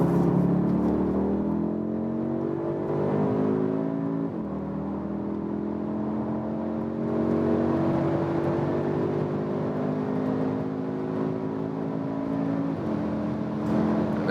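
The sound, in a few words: Audi SQ2 accelerating on the Autobahn in dynamic mode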